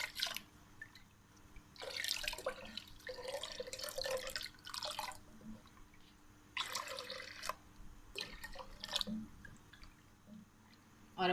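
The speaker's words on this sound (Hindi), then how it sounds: "अब हम इसमें डाल देते हैं तकरीबन 3 कप पानी" Water is poured into a cooking pot of khatti dal in several bursts, splashing and trickling near and fairly loud, with pauses between pours.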